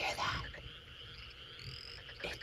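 A frog croaks in a short, close sound, with a buzzy rising call at the start and a second one at the end, which could also be a toy or a voice imitation.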